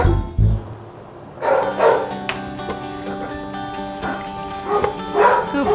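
A dog at a vet clinic gives a few loud yips and barks at close range, mixed with whimpering and some background voices.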